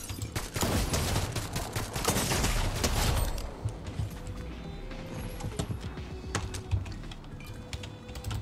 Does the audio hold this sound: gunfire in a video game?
yes